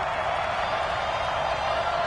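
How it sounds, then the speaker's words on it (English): Steady roar of a stadium crowd in a PS4 football video game ahead of a big third down, a loud, dense wash of cheering and noise with no breaks. "the crowd getting into it as we come up on a big 3rd down"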